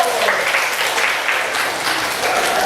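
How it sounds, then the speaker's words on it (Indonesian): A classroom of students claps for a classmate during a music lesson, brief continuous applause filling the room at close range. "Tepuk tangan dulu."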